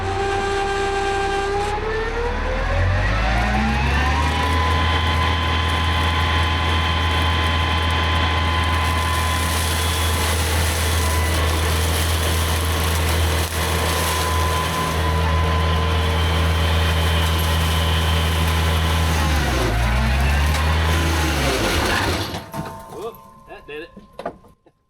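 A Baumalight MP360 brush mulcher on a tractor grinds into a tree stump, a loud, sustained engine drone whose pitch dips as the load comes on, then recovers before fading out at the end.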